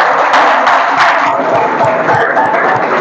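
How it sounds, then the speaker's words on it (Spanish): A church congregation applauding in a loud, steady wash of clapping and cheering voices that fills the room evenly, with scattered thumps under the crowd noise. "Demos un aplauso al Señor, iglesia, por favor."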